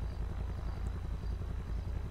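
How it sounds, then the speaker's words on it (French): A police helicopter in the GTA video game hovers overhead, its rotor producing a loud, steady rapid low thumping with constant engine whine, uninterrupted and close for the whole stretch. "vous êtes encerclés par un hélicoptère et une voiture de police"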